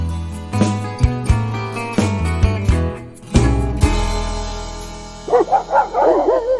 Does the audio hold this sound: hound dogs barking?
yes